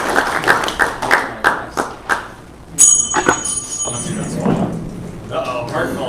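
Brief scattered clapping from a small group at a makerspace's monthly meeting, a few sharp claps in quick succession over about two seconds, followed by speech and clattering sounds.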